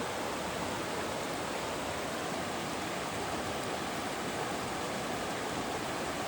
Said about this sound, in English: Very pretty creek.